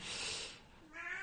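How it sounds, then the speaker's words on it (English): A single drawn-out cat meow nearby, loud and close, rising then falling over about a second with a short second note at the end. "And oh, that was the cat."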